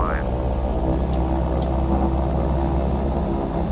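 A propeller aircraft engine in a flight simulator drones steadily and loudly at takeoff power, a constant low harmonic hum with no break, under a voice talking.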